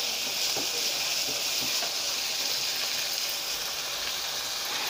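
Minced meat keema fries in a pan over medium-high heat with chillies added, giving a steady, close, even sizzle throughout with no talking.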